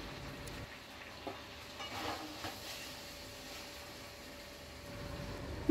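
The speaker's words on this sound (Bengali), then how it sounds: "সেই মিশ্রণটাকে আমি এবার দিয়ে আবারও নাড়াচাড়া করতে লাগবো" A poppy seed and mustard paste being stirred in a pan for Bengali dudh shukto, soft low scraping strokes over a faint background sizzle, quiet and intermittent with no voices.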